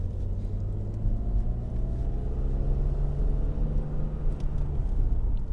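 Inside a 1997 BMW M3 E36 with a 3.2-litre straight-six and SMG gearbox, a steady low engine drone rumbles through a gear change with a light throttle blip, close and continuous.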